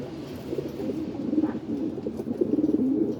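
Roller pigeons in a loft coo softly and repeatedly, low rolling calls overlapping in a gentle, continuous murmur, moderately close, with no talking.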